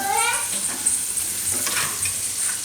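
Grated garlic stirred in melted butter in a hot pan gives a steady close sizzle with soft scraping strokes and no talk.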